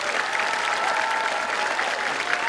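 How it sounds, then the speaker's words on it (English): Steady applause from a crowd at a high school commencement for the Class of 2023, filling the whole stretch evenly without a break. "Let's give them all a round of applause."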